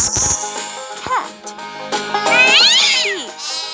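A cat meows in a children's farm-animal game, rising and falling cries over bright background music with voices nearby.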